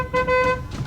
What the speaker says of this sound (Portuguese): Buzina, buzina!